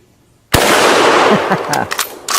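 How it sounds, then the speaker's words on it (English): A German Mauser K98 bolt-action rifle fires a single loud, sharp shot outdoors, followed by a long ringing echo and a few faint clicks. "I just cocked this rifle, and I'm going to shoot it."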